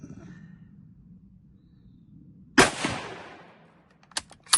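A loud single gunshot cracks out over a low ambient rumble, followed by a couple of sharper, fainter shots near the end, with no talk.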